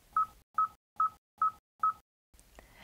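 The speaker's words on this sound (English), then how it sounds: "press the Dial button and use the number pad to enter phone number" Five evenly spaced touch-tone beeps from a vehicle's phone number pad, each short and clean with silence between, followed by a faint rustle.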